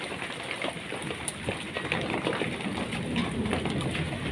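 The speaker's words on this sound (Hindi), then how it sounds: "तो टीन से आवाज़ आई है डज़ की। मैंने कहा ये ओले पड़ रहे हैं।" Hail falls on a tin sheet resting on a mug, making a dense, continuous rattling patter that stays at an even, moderately loud level with no talking.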